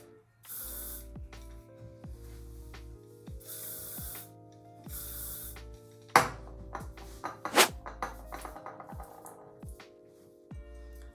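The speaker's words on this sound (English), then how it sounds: "I'm finished with a little hairspray." A can of hairspray sets freshly ironed, loose waves, giving several separate hissing bursts of spray, followed by quieter rustling and handling noises; nobody talks.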